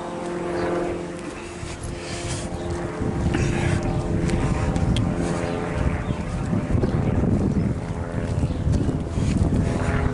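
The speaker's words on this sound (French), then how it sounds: "Ça recommence les avions." An airplane flying overhead outdoors, a broad low roar that swells after a few seconds and holds steady, with some wind noise on the microphone and a faint voice at times.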